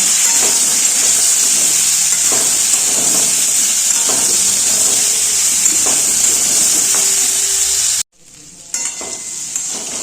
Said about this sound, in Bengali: নুন হলুদ দিয়ে সুন্দরভাবে ভেজে নেবো